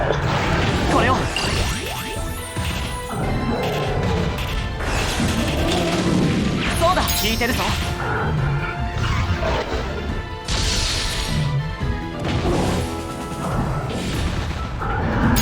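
Infinity Cannon attack blasts from the Digimon World: Next Order video game, a dense, continuous barrage of crashing explosions and impacts mixed with game music and effects, loud and unbroken throughout.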